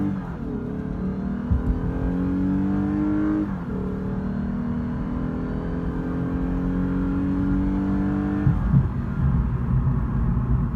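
A Lexus RC350 F Sport engine revs as the car accelerates through the gears, its rising drone dropping at each upshift, close and fairly loud inside the cabin.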